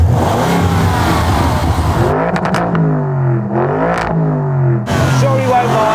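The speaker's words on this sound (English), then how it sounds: "Go on, let's start the engine." Lamborghini Urus with an aftermarket exhaust roaring into life and revving loudly up close, the engine note rising and falling in repeated blips over a continuous deep rumble.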